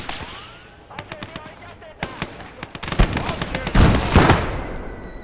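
A heavy gun fires during a battle in the video game Blood Red Snow: sharp cracking shots and booming blasts grow denser and louder toward the end, with a voice talking underneath.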